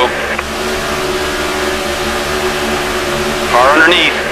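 A race car engine at Talladega drones steadily beneath radio chatter, with a brief surge of revving near the end as cars pass.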